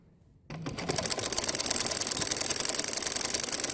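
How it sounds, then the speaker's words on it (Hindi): A sewing machine stitching folded cloth for a salwar bottom design starts abruptly after a short silence, then runs in a fast, steady, close rhythmic whir. "अब इस एंगल पर रखकर हम इसको सिलाई लगाएंगे।"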